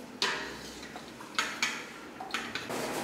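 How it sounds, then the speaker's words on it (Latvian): A spoon stirs a cherry-syrup drink in a pot with several close, distinct metallic clinks and scrapes against the sides, spaced irregularly over a low hum. "Visu rūpīgi apmaisam."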